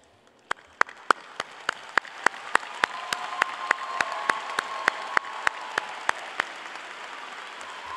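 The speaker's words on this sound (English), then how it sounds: "I need my Spartan staff to please stand so that we can all applaud your efforts." Graduation ceremony audience applauding in a large high school venue as staff stand, with a few sharp nearby claps over a steady wash of distant clapping that swells after the first couple of seconds and holds.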